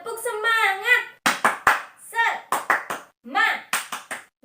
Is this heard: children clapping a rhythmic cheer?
yes